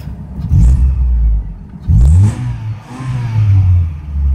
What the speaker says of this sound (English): One last little rev.